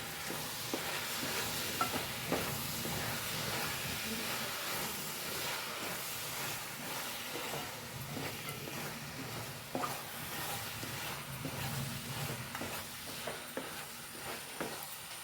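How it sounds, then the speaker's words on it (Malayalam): Ghee sizzles steadily in a pan with fruit and pomegranate for Onam fruit payasam. Soft scraping strokes of a spoon stir through it at intervals, close up and with no talking. "കുറച്ച് നെയ്യ് ഇട്ട് കൊടുക്കുക കേട്ടോ ഇനി ഒന്ന് ഇളക്കി കൊടുക്കേ"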